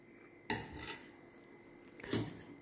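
A spoon serves lunch onto a plate, giving two distinct clinks of metal on dishware about a second and a half apart, with quiet room tone between them.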